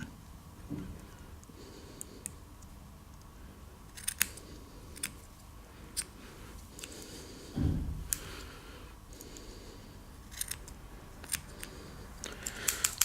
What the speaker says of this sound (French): On coupe toujours l'excédent.